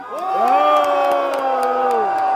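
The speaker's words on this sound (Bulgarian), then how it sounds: "Който мисли, че Зарко спечели, да извика сега." A crowd at a freestyle rap battle semifinal yells and whoops in unison to vote for Zarko, a loud rising roar with drawn-out sung shouts sustained across the moment.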